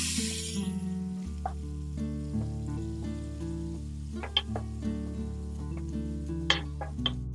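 Grated amla dropped into hot ghee with cinnamon in a pan, giving a steady soft sizzle with occasional crackles and pops, under a sustained drone from the stove.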